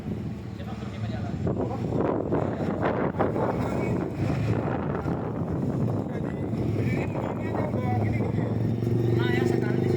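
Strong gusting wind tearing zinc roof sheets loose around an office, a loud continuous roar with buffeting on the microphone and scattered rattles, as people talk over it.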